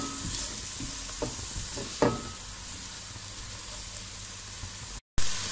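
Onion and mixed vegetables sautéing in a pan, a steady close sizzle with a few soft stirring clatters and scrapes, no voices.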